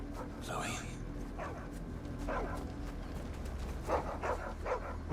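In Final Fantasy XVI, a dog gives a few short, moderately loud barks that are spaced out over several seconds, with soft footsteps and faint ambient game sound underneath.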